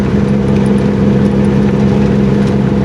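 A loaded super dump truck engine holds a steady 1400 RPM in ninth gear at 40 mph on a highway, a loud, constant low drone with a firm hum and no pauses.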